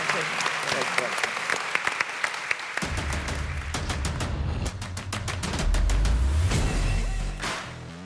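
A seminar audience breaks into sustained, dense applause for the panellists, loud and continuous for several seconds before slowly thinning out.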